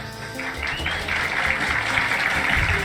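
An audience applauds at a live talk show, sustained clapping that swells and carries on throughout, with voices faintly mixed underneath.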